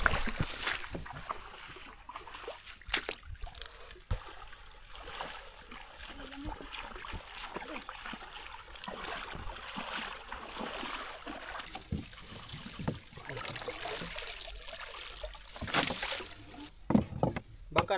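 A small wooden boat is paddled across water, with faint intermittent splashes and drips under scattered quiet voices and background noise.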